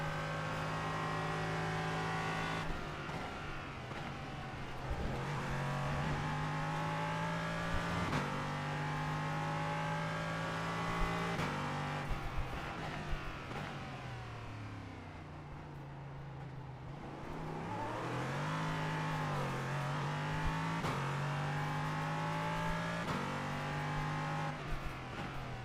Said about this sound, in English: this thing has a V8 in it too, so V8s always sound nice